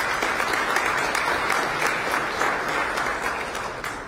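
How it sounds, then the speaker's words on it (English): Audience at a Bexar County State of the County address claps in a sustained, full round of applause across the room, steady throughout and tapering slightly at the close. "Give yourself a round of applause for winning that."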